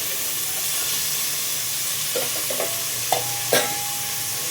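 Onions frying in a pan for a festival non-vegetarian curry, a moderate, continuous sizzle with a few brief utensil clinks near the end.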